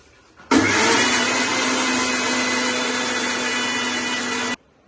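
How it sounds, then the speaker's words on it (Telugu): A mixer grinder whirs loudly at a steady pitch for about four seconds, starting and stopping abruptly, close by with no talking. "మిక్సీ చేసేసుకుందాం"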